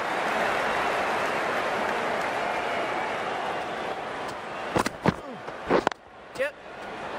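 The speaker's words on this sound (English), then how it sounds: "It's going to be hard for the bowler to focus with the crowd this excited." An excited crowd roars continuously in Cricket 19 gameplay, a dense wash of cheering with a few sharp knocks and thumps near the end, while a commentator talks over it.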